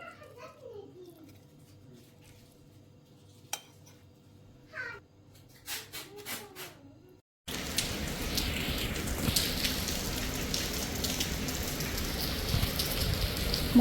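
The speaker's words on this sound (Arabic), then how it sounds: "عن جد ما عم توقف المطر أبدا" Steady, heavy rain pours down for the second half, a loud broadband hiss that starts abruptly, after a quieter opening with a voice, scattered clatter and a cat's meow.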